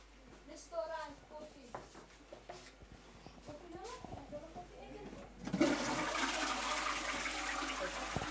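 A toilet flushes with a sudden loud rush of water that continues to the end, following a child's speech and small handling noises.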